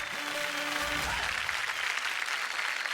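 Steady applause fills the room for the musical chairs winners at a Marathi women's game show, a dense, even wash of clapping from a crowd lasting throughout without a break.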